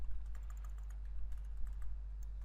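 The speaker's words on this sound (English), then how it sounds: "There I'm just typing the panel header" Typing on a computer keyboard: a quick irregular run of light, close key clicks over a constant low electrical hum, with no talking.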